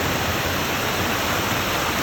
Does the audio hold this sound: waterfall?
yes